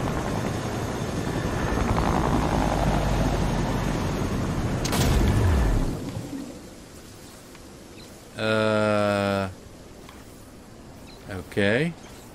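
A helicopter in Fortnite sets down on water. A loud rotor drone sweeps downward and cuts off, then a quieter stretch follows with brief buzzing game tones.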